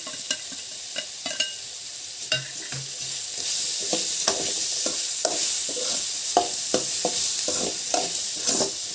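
Garlic lentil powder stirred into frying carrot in a pan, with a spoon scraping and tapping in irregular strokes over a steady sizzle, close and moderately loud, no voices.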